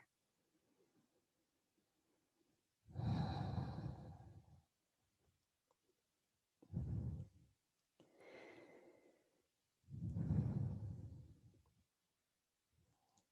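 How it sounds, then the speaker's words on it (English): Slow, deep belly breathing close to the microphone during a mat Pilates session, with three long breath sounds and a shorter one in between, separated by quiet pauses. "We're just going to take a couple belly breaths here"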